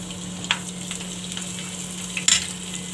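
Garlic and asafoetida sizzle in hot oil during a tempering for a boiled cluster-bean curry, a steady close crackle with a few sharper pops and spits standing out above the frying.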